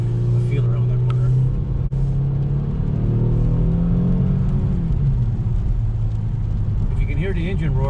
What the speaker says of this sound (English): Hear the engine roar, it's pretty nice